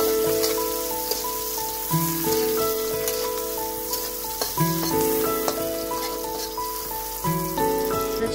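Dried red chillies fry in hot oil for a hilsa and water lily curry, giving a continuous crackling sizzle under steady melodic tones, with no voices.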